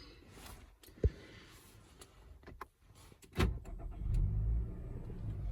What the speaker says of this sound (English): So you have to have your foot on the brake, push to start.